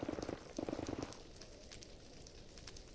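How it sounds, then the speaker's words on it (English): Fire burning in Minecraft gives a dense, steady crackle and hiss, with a burst of louder rhythmic popping at the start that eases into a softer continuous rustle. "Lots of fire, holy cow."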